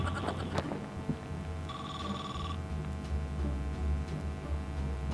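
A telephone rings once in a steady electronic tone over a noisy background hum. The ring is fairly faint and brief, with no talking during it.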